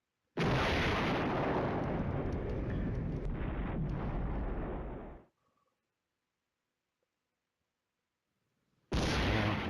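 Artillery fire in the wargame Flashpoint Campaigns Red Storm, a loud continuous rumbling barrage of blasts lasting several seconds, then silence before another loud burst starts at the end.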